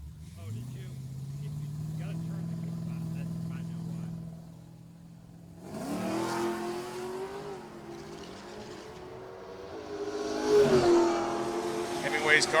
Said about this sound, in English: John Mancra rolls the Camaro into the beams as Dan Hemingway waiting for him patiently.